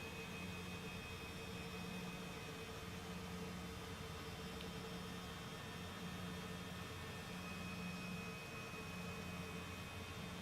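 Steady jet engine drone from an airliner in Microsoft Flight Simulator 2024, taxiing near parking at a coastal Carolina regional airport, a constant broadband roar with faint tonal whine and no talk.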